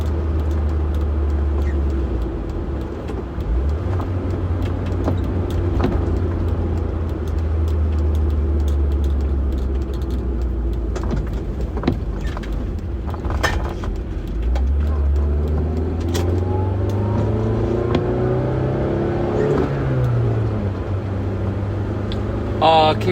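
Car engine pulling steadily in fifth gear, a low droning hum with the pitch rising and falling as it revs, heard from inside the vehicle with occasional clicks and bumps throughout.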